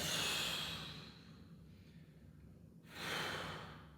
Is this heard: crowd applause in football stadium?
no